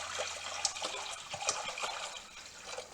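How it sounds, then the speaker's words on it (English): Spring water poured into a pot for pasta on a stovetop, a steady close splashing pour with watery gushes running the whole time, no voices over it. "Yeah, we're going to put some water. I've got some spring water here."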